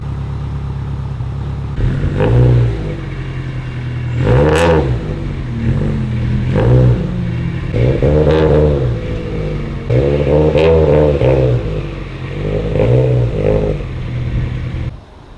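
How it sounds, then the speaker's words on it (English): A Subaru STI is driven and loaded onto a car transporter, its engine rumbling steadily with repeated revs and throttle blips over a constant low idle, close by, no talk. "Alrighty, transport just arrived, and the STI is headed off to Sean down in California."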